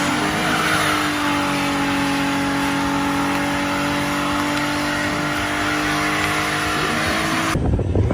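A race car at a car show event holds a loud, steady engine drone with strong harmonic whine as it passes close by, sustained for several seconds before cutting off abruptly.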